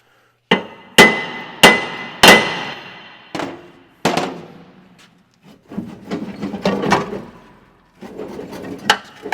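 Several sharp metallic hammer strikes ring out on a metal exhaust bracket of a Scania 144 truck, a quick cluster early then scattered blows with clanking and shuffling between them, close and loud.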